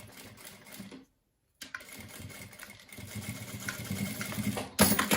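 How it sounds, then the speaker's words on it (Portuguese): Sewing machine running in short bursts as a few backstitches are sewn beside a zipper on a small phone wallet with card pockets, with a brief pause, then the motor hum and rapid needle clatter resuming close by. "eu vou fazer uns 3 pontinhos com retrocesso e vou parar a costura."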